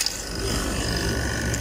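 A Platinum 10 CFM vacuum pump running dry without oil gives a steady mechanical rattle and whir, close and continuous, with no talk.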